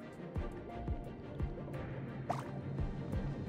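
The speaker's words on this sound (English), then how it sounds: "Oh, more bubbles." Bubbles burble in the Genshin Impact video game, with soft irregular drip-like pops and a gentle liquid squish over a quiet low background.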